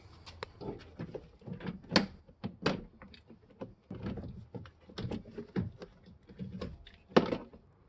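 Front door trim panel coming off a Mercedes 907 Sprinter van: a run of close plastic clicks, thumps and rattles as the panel is pried and leaned back, irregular and fairly quiet.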